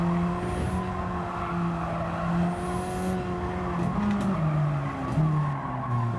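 A race car braking hard for a corner marked by cones in Gran Turismo 7, with the engine droning close and the tires squealing in long skids as the pitch drops.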